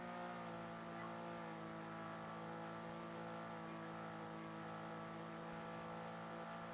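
A tow truck drives in the NoPixel GTA roleplay game, its engine a steady, loud drone with layered harmonic hum that holds without a break from start to finish, with no talk over it.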